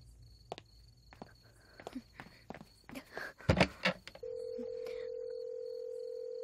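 A landline telephone is handled and dialed with a string of clicks, knocks and bright keypad beeps, then a steady, continuous dial tone comes up and holds to the end, close and fairly quiet.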